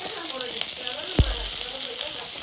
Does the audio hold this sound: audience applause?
no